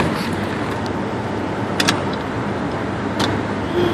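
A utility truck passes beneath an underpass, giving a steady, fairly loud broadband road rumble that holds for several seconds with no voices.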